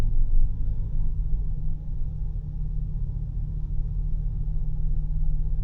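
The 6.2 liter V8 of a 2020 GMC Yukon Denali with a 10-speed transmission, cruising as a steady low engine and road rumble from inside the cabin, even and continuous throughout.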